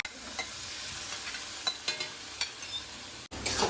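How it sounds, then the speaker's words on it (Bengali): Taro stirred into fried spices and chilli powder in a pan for a prawn dish, a soft close sizzle with several scraping stirs of a spoon, quiet and without any voices. "এই যেভাবে নাড়তে থাকবে, মশলাটা মিশে যাবে।"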